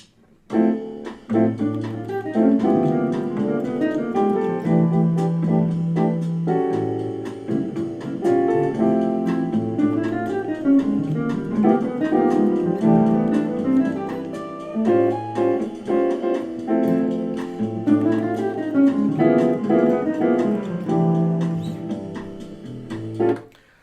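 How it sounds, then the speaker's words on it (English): A jazz guitar phrase played alone in a flowing, rolling triplet rhythm, the notes steady and clear with brief pauses between runs. "So let's say I want to play that as triplets instead."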